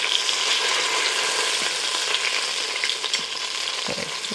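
Beef chunks browning in an Instant Pot, a loud, dense and steady sizzle close up, with a few faint clinks near the end and no talking.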